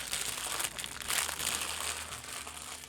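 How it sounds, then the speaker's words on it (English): Plastic packaging from a model kit crinkles and rustles in close, irregular bursts, a fairly soft continuous crackling with no talk over it. "Sorry for all the crinkling."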